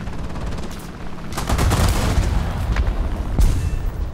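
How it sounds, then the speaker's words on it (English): Machine gun fire in War Thunder, dense rattling bursts of automatic shots with heavy low booms, loud and close and continuing throughout the few seconds, with no talking. "Somebody down there firing machine guns at us."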